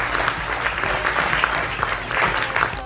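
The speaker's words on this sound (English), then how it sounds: "One more round of applause, please." Audience applause at a citation award ceremony, a thick continuous round of clapping from a crowd, loud and sustained with no talking over it.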